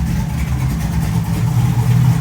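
Camaro LS V8 fitted with a Truck Norris cam and Neighbor Hater mufflers, a loud, deep, choppy idle rumble that rises slightly toward the end, close and without talk.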